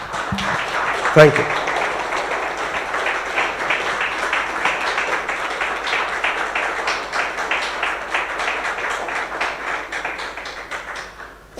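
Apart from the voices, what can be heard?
audience applause at graduation ceremony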